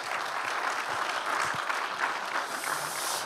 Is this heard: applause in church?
yes